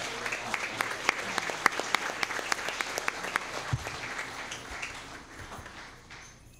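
A school board meeting audience gives a round of applause, with crisp individual claps over a steady crowd wash that tapers off and fades out over the last couple of seconds.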